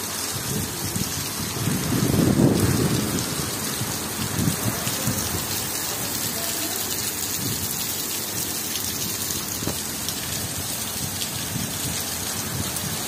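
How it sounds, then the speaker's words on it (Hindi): Heavy rain with hail pours down in a Saudi Arabian city, a dense continuous roar of drops on surfaces, with a low rumble of thunder swelling briefly early on before the steady downpour continues. "आज बहुत तेज बारिश हो रही है।"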